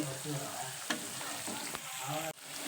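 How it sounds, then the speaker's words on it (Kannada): Chopped onions fry in hot oil for upma, a close, steady sizzle with a few light clicks from stirring. "ಇದು ನೋಡಿರಿ ಉಳ್ಳಾಗಡ್ಡಿ ಹಿಂಗೆ ಫ್ರೈ ಆಗ್ಬೇಕು ಎಣ್ಣೆಗೆ"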